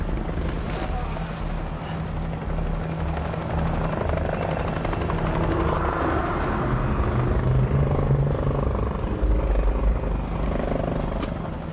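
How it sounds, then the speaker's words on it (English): Helicopters heard from the ground by a hiker caught out in a storm, a steady rotor drone that stays fairly distant and swells slightly across the stretch, with wind in the background. "I heard some helicopters."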